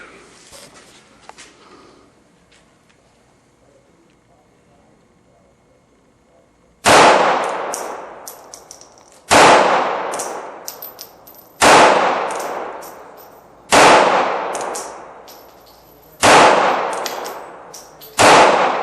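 A Smith & Wesson Bodyguard 380 pistol fires six sharp, loud shots at a steady pace, each ringing out briefly, after a few seconds of quiet background sounds at a range.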